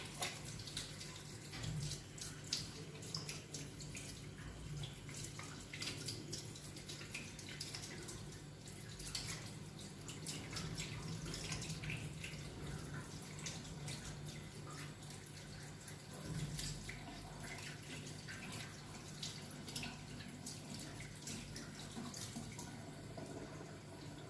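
Tap water runs steadily into a sink as hands are rinsed, a low continuous splashing hiss that carries on without a break and with no talking over it.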